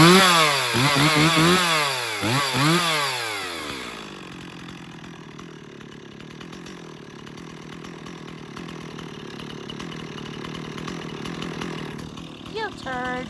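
A Stihl 026 chainsaw revs up and down in several loud, wailing bursts, then settles into a steady, rattling idle close by.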